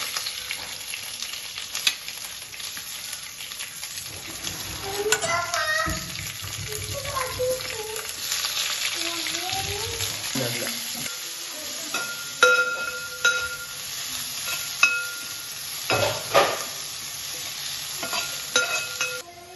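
Curry leaves, cumin and a large sliced onion fry in a pan with a steady sizzle, broken by stirring scrapes and clinks throughout, close up with faint background voices.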